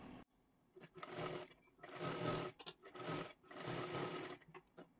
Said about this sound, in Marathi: अशी पट्टी आपल्याला शिलाई करून घ्यायची आहे सर्वात आधी